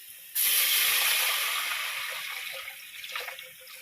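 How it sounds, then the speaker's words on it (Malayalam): Loud sudden hiss as water is poured into a hot chicken biryani pot, starting abruptly and slowly fading over several seconds with faint bubbling toward the end. "ഇതിൻ്റെ ആവശ്യമുള്ള വെള്ളം ചേർത്ത് കൊടുക്കണം."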